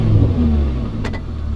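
An Audi R8 V10 with a Milltek exhaust and robotized gearbox sits in neutral, its engine humming loudly and close, then a brief sharp rev burst near the end.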